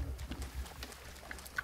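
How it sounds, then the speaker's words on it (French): A pigeon cooing in the video game Zelda Breath of the Wild, soft low repeated coos over an ambient outdoor bed with faint scattered clicks and taps, moderately distant. "Un pigeon, lui, on va l'avoir aux flèches."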